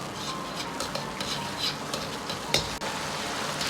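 Soybean paste and soy sauce sauce stir-fries in a wok, with a steady close sizzle and repeated scraping strokes of a spatula against the metal, plus one sharper clank.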